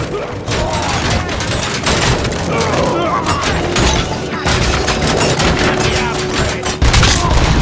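Heavy, sustained gunfire rattles through a bank robbery shootout in the game Robocop Rogue City: dense overlapping automatic bursts and booms fill the scene loudly and continuously, with shouted voices mixed in beneath the barrage.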